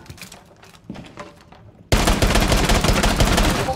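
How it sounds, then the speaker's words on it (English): Shotgun fire in Rainbow Six, scattered sharp shots followed by a sudden loud burst of sustained gunfire and impacts that continues to the end. "Ini yang tembak pakai shotgun ini ya."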